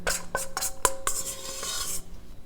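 Sticky dough scraped off a work surface with a metal utensil, a series of close clinks and rasping scrapes in uneven bursts that fade near the end, with no talking.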